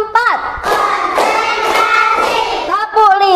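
Children in a primary school class clap their hands in a counted classroom clapping routine. Several loud rhythmic claps and thumps sound under a teacher's and children's chanting voices.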